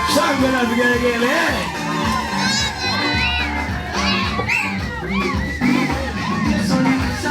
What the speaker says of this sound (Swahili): Shangwe na vigelegele.